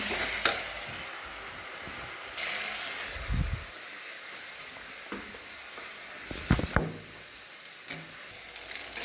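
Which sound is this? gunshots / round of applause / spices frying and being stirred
spices frying and being stirred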